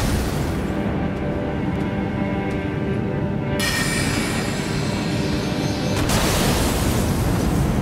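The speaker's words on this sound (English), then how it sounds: "Big glintstone explosion that he's got here." A large glintstone sorcery explosion in the video game Elden Ring, heard as a continuous roaring blast with a sharp shift partway through and a brighter surge near the end, loud and dense throughout with no voices.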